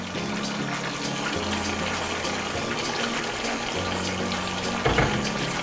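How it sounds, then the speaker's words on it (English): Water pours steadily from a tap or jug over chicken in a pot for an Indonesian turmeric fried chicken, a continuous close gushing with a faint hum beneath and a brief clunk near the end. "Just add water."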